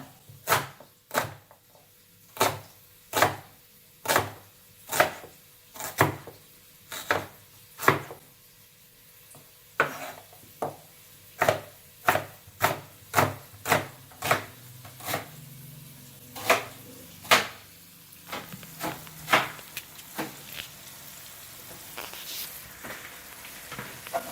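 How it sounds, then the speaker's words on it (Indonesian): An onion being chopped with a knife on a board in a home kitchen, a quick run of sharp, evenly spaced knocks that grows faster and denser toward the end, close and clear with faint background noise. "Bawang bombaynya kita cincang seperti ini ya."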